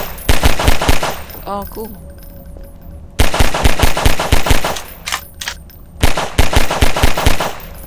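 Rapid automatic gunfire from a weapon in the sandbox game Garry's Mod, fired in several loud, close bursts separated by short pauses, with a brief spoken remark in between.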